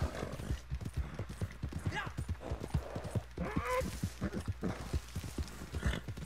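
Horse hooves clip-clopping at a steady trotting rhythm in the Red Dead Online video game, close and clear, with someone talking over the footfalls and a brief whinny-like sound midway.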